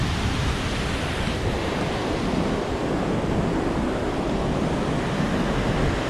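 Sioux Falls waterfall roaring as a steady, dense rush of broadband water noise, constant and unbroken throughout, with some wind buffeting the microphone and no voices.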